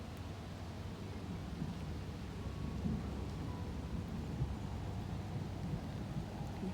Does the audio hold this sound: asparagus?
no